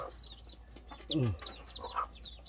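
A mother hen clucking near her native chicks, soft low clucks mixed with thin chick peeps, close by, with quiet voices talking in the background.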